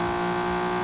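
McLaren 720S GT3X racing engine in Asphalt 8, a continuous loud buzzing drone held at steady revs with dense harmonics from start to finish.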